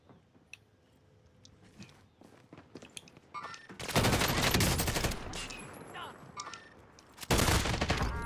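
Gunfire in a video game shootout: after quiet stretches, loud dense volleys of shots burst out near the middle and again near the end, close and harsh.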